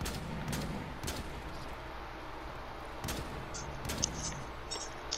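Gunfire in a first-person shooter video game: several sharp shots break out over a steady background mix of game ambience. The bursts are moderately loud and spaced irregularly.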